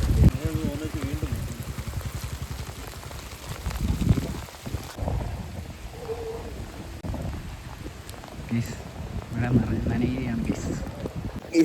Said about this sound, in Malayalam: ഗൈസ് മഴയായി